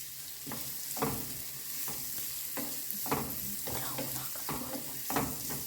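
Finely chopped onions frying in a pan for paneer gravy, a steady close sizzle broken by rhythmic scrapes of stirring about once a second.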